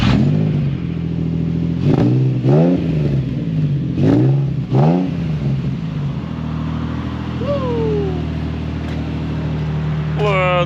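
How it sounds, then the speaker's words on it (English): A Nissan 350Z sports car engine on a cold start is revved hard several times in quick bursts, each rising and falling, before settling into a steady, close idle. "Last cold start of the season. We will miss this sound for the whole winter, right?"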